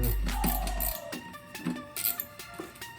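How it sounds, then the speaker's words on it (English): A hand ratchet clicks as 8mm bolts are backed out on a Snapper snow blower, loud and close, with a brief mechanical whir at first, then irregular rapid clicking bursts in a workshop. "We're gonna take these 8mm bolts out"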